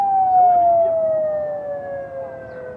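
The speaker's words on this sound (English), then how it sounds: "there's an ambulance." Ambulance siren passing along a busy street at a show ground, a loud steady wail that slowly drops in pitch as it moves by.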